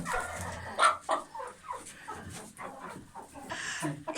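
Chickens cluck and a speckled rooster calls in a busy farmyard, with short bursts of clucking and rustling throughout, fairly close.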